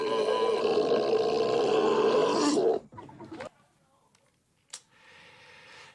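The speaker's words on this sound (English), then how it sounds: "They said the burp came from a camel." The camel burp from the 1984 film Revenge of the Nerds: one long, loud, guttural belch lasting almost three seconds, followed by a few quieter rumbles and a short thump before near silence.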